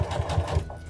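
A sewing machine stitches across the bottom of a pair of overall pants, a quick burst of rapid, fairly quiet mechanical chugging that lasts under a second.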